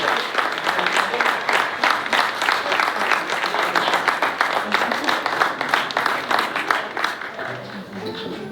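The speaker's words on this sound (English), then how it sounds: "So to the bride, please, just a round of applause." Wedding guests at a rustic barn reception give the bride a round of applause, dense steady clapping from a room full of people that holds for several seconds, with a few voices and cheers rising near the end.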